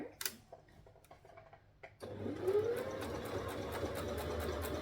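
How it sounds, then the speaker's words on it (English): A sewing machine stitches the seam above the skirt of a dress, starting after some faint taps and then running as a steady, fast mechanical whir with rapid ticking that continues to the end. "So right above the skirt is where we're going to sew it"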